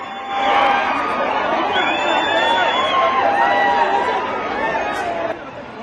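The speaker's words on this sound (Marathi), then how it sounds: "अर्जुनच्या दिशेनं प्रचंड गर्दी धावत गेली लोकांचे लोंढेच्या लोंढे धक्काबुक्की आणि चेंगरी करत अल्लू अर्जुनच्या दिशेनं धावत होते" A dense crowd surging and shoving outside Sandhya 70mm theatre at the Pushpa 2 premiere with Allu Arjun, a loud sustained roar of overlapping shouting voices and chatter that fades slightly before cutting off.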